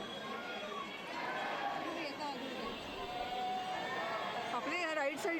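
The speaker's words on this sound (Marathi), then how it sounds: "केवढी गर्दी आहे" Busy crowd murmur fills the grounds of Hanuman Garhi temple in Ayodhya, many voices chattering together at close range, with steady background hubbub throughout.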